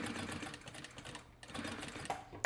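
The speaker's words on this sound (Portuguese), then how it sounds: "Venho com uma costurinha centralizada" A sewing machine runs a centered seam across the pockets of a wallet, its steady mechanical whirr continuing near and fairly loud, pausing briefly midway before resuming, with a few sharp clicks at the end.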